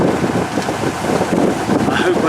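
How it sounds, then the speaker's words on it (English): Strong, cold winter wind buffeting and roaring in gusts on a narrowboat near a marina, loud and close, with a rumbling low rush throughout. "it seems to have got exceptionally windy and extra cold"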